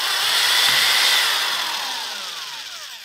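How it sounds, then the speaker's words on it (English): A power drill boring into wooden pieces for a beginner woodworking project, a steady loud whirring drone that holds, then gradually fades over three seconds, with no talking. "we'll start drilling these out and we'll start putting it together."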